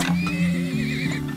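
A horse neighs in the video game Turmoil, a loud, close whinny with a wavering high pitch lasting over a second, alone without talk.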